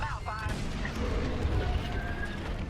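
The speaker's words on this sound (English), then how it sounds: "Our Corvette is taking heavy fire." Heavy blaster fire and explosions fill a space battle in the Star Wars: Squadrons video game, a continuous rumbling barrage of booms and shots, with some voice or radio chatter mixed in.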